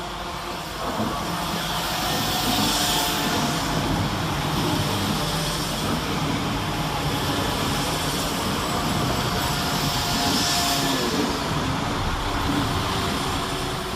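West Midlands Railway Class 172 diesel multiple units at Birmingham Moor Street station, a steady loud rumble of engines and rolling wheels running throughout, with no talking.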